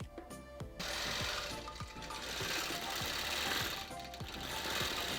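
A longarm quilting machine stitches a design across a quilt, its needle hammering in a fast steady rhythm that runs loud and continuous after a brief start, close up with no talking.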